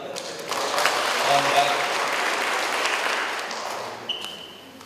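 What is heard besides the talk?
audience applause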